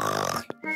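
A cartoon pig voice imitates snoring with a low, rumbling snort, then a short pause and a second, briefer nasal snore.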